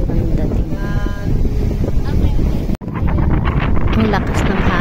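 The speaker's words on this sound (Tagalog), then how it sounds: "Ang lakas ng hangin." Strong seaside wind buffeting the microphone at the Boracay keyhole rock formation, a continuous roaring rush with surf underneath and a voice briefly heard.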